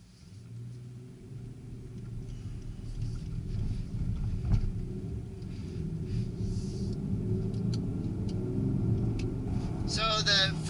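A 2020 Rolls-Royce Wraith Black Badge with a V12 engine, driven up a mountain road, gives off a steady low rumble that builds gradually as it accelerates, heard from inside the car with some talk over it.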